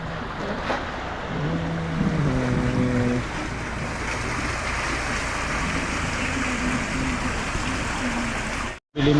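Floodwater after a night of heavy rain flows in a steady broadband rush through a flooded neighbourhood, continuous and fairly loud, with a faint low hum and tone under it and a sudden brief dropout near the end.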